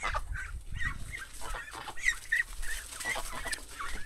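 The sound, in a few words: ducks quacking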